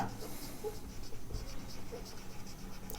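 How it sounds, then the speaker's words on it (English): Marker or chalk writing on a board during a physics lesson, faint scratchy strokes in short bursts, quiet and close, with a soft hum behind. "if I write turnaround"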